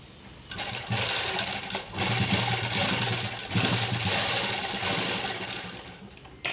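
A sewing machine stitches piping onto a blouse neckline, running in a loud, continuous motor whir with steady rapid needle rhythm for several seconds after a brief quiet start.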